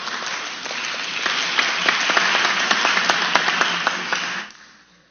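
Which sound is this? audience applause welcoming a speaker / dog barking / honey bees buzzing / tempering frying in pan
audience applause welcoming a speaker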